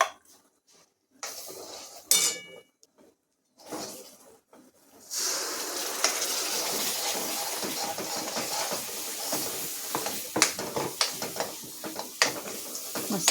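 A wet ground masala paste for an old-fashioned spicy Maharashtrian dish drops into a hot pan and fries with a steady hiss, marked by scraping spoon and pan clinks, after a few quiet clatters.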